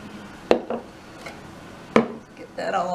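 A spoon stirs warm crème anglaise into white chocolate in a bowl, with two sharp clinks against the bowl's side and soft scraping between them, close and fairly quiet.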